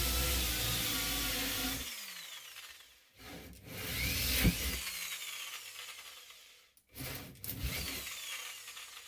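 Wood being bored with a 35 mm drill bit from the other side of a board for a wine rack, a grinding, rasping power-tool run that stops twice in short pauses before starting again, close and steady with no talk.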